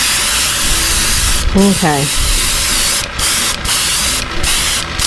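A paint sprayer hissing steadily at close range while painting a threadfin shad fishing lure, with a brief spoken word partway through.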